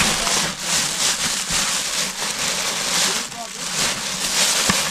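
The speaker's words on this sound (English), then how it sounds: "Now I'm gonna drill some holes out this" A motorized ice auger grinds continuously while drilling holes in lake ice in Alaska, a harsh, gritty scraping that pulses slightly as the blade bites, close by and loud throughout.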